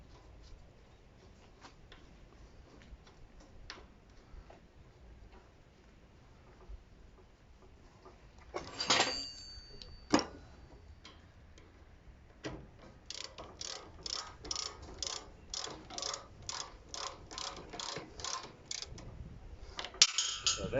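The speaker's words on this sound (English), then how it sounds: "I have to just take that back in again so that I can get this 14 spanner in, 14 headed" A 14 mm spanner ratchets as bolts are tightened on a bowling green cylinder lawn mower: fast, sharp clicking in quick runs, close and moderately loud after a quieter stretch of faint handling noise.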